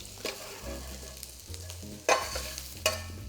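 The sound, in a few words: flour cooking in pan for gravy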